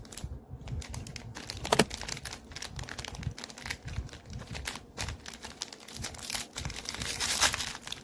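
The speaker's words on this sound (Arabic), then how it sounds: "نفتح الكيس التاني" A crinkly plastic biscuit packet is opened and handled close by, with continuous rustling and crackling and a few sharper tearing bursts throughout, no talking.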